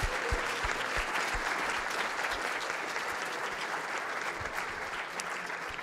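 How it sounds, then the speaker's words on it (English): Sustained applause from a large audience at a student day of a global engineering challenges summit, a dense, steady wash of clapping for the competing student teams, with no talk over it. "please join me in giving all of our teams a round of applause"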